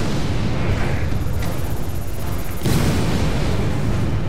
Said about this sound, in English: Look at all these glue bombs throwing at him.